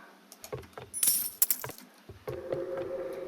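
Coins are picked up in the Roblox game Barry's Prison Run, making a cluster of bright chiming pickup sounds in the middle, followed by a steadier tonal game sound with no talk.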